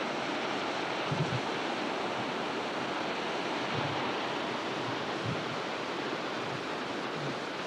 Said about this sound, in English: Pretty waterfall there.